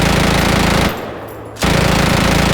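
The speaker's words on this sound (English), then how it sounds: "The optional top-mounted minigun on the CPV is also an immediate favourite" Top-mounted minigun on a CPV vehicle in the video game Squad, firing a loud, continuous ripping burst that stops briefly and then resumes just as loud, with no talk over it.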